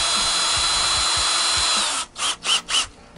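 Ryobi power drill boring a hole, a steady high whine with periodic clicks, then three short bursts of the motor spinning up and stopping, close and loud.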